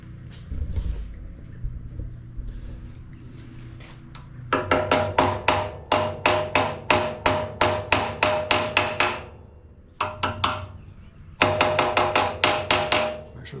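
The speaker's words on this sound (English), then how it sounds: "Take a hammer and tap it in." A hammer taps a key into the shaft of a pump on a Dewalt 3800psi pressure washer with a Honda GX270 engine: two rapid bursts of close, sharp metallic strikes, about a dozen each, with a brief pause between.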